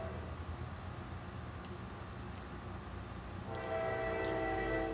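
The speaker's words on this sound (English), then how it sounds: "Sorry, that's a train." A passing train rumbles steadily at a moderate distance, then a sustained horn blast comes in near the end and holds to the close over the rolling noise.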